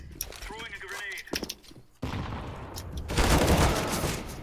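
Bursts of rapid gunfire from a team-based shooter video game, a dense rattling volley swelling louder in the second half, with excited voices talking over the start.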